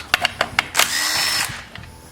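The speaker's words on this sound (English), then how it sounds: "So you're going to need a T27 bit. And you're going to remove 3 screws." A power driver fitted with a T27 bit backs screws out of a Stihl FS 70 RC weedeater, heard as a few quick clicks and then a short, close whirring burst.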